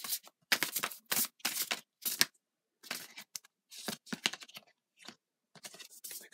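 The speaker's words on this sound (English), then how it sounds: "I'll get a tarot card from the Light Seer's Tarot." Cards from a Light Seer's Tarot deck handled close up while one is drawn, in quick papery rustling and flicking bursts separated by short silences, with no voices.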